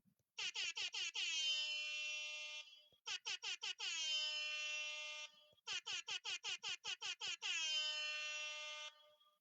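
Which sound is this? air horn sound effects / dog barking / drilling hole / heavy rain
air horn sound effects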